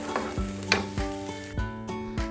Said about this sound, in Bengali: আমি এই সবগুলো দিয়ে একটু ভাজা ভাজা করে নিচ্ছি